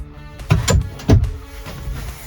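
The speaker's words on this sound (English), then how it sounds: "Slide drawers for writing," A storage drawer sliding in the sleeper cab of a Freightliner Cascadia 126 Class 8 highway truck, with two or three close, distinct sliding thumps and knocks in a short burst, then quieter rattling.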